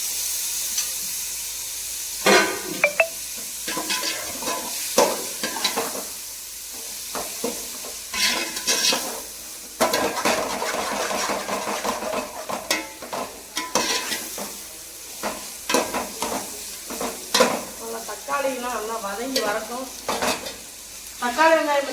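Tomato and onion sautéing in a pan for mushroom biryani, a loud close sizzle and hiss with frequent scraping stir strokes in irregular bursts, some spattering crackle near the end, nobody speaking.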